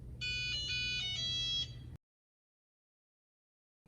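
Shark Ion robot vacuum Find Robot alert: a bright electronic chime melody of several quick tones, ringing for about a second and a half over faint room hum, then silence.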